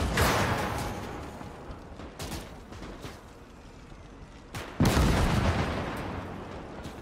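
A tank cannon fires at a Panther tank in a World War II game: a loud blast that rolls off into a long rumbling decay, then a second heavy shot later, with smaller thuds between.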